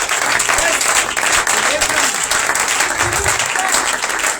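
A church congregation claps and cheers for Jesus, dense loud applause filling the room without pause, with voices mixed into the din.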